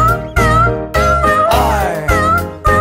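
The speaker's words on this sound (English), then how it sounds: "There was a farmer who had a cat, and Oscar was his name, oh." A cat meowing sound effect within a children's nursery song: loud, rhythmic meow-like tones repeat about every half second over bright musical accompaniment.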